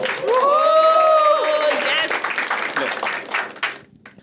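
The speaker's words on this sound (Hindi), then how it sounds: "तालियां यार दीप्ति के लिए." A loud voice cheers over the start, then a crowd breaks into scattered clapping that fades out after a few seconds.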